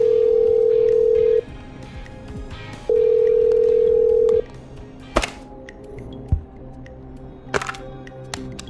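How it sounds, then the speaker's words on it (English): Telephone dialing in the video game Killer Frequency: two long steady dial-tone stretches, then a few sharp clicks and clacks as the call goes through. "I'm dialing. One moment."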